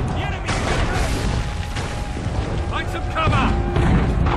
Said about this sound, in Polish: to jest salwa, to jest strzał